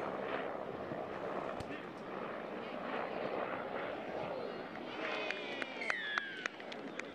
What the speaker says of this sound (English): You can hear the search helicopter flying over